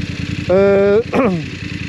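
A 2022 BMW F 850 GS Adventure motorcycle on a test ride gives two short, close engine revs, the second rising and falling in pitch, over a steady background rumble.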